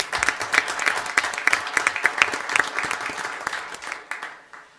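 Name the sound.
applause for cheer teams at board meeting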